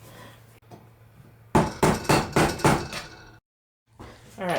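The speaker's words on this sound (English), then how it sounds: "I'm just going to hammer that in." A hammer drives a staple into wood while repairing a dresser, giving a rapid run of about six sharp, close metallic strikes in a steady rhythm, then a brief pause and a few more impacts.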